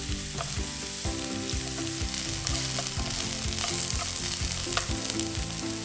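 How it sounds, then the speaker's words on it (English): Onions sizzle and crackle steadily in a hot pan over low heat, a dense continuous frying hiss with scattered pops and no voices. "sweat the onions by frying it in this low heat till it's soft and translucent"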